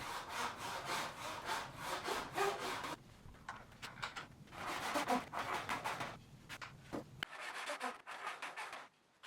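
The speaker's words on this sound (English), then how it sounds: "After cutting the frets using my own copy of the LMI fretting jig that I made way back when" Guitar fret slots are cut with a hand saw in a homemade copy of an LMI fretting jig. Brisk, close back-and-forth strokes come in three bursts separated by short pauses.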